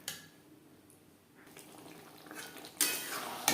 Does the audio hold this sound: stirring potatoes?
yes